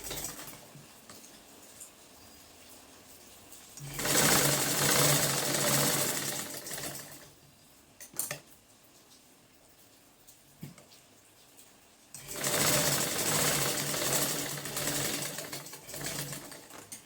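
A sewing machine stitches the shoulder seam of a kurti in two loud, steady runs of rapid rhythmic chatter, separated by a quieter pause with a few brief clicks.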